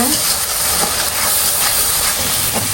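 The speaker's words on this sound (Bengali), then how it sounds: "এখানে হচ্ছে মশলাটা কষানো হচ্ছে" Steady, dense hiss of spices sizzling while being sautéed in a pan, continuous and close with faint clinks and a brief voice in the background.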